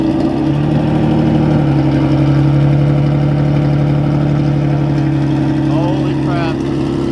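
A loud widebody Acura NSX engine idles with a deep, steady rumble throughout, a brief higher rev or squeal near the end.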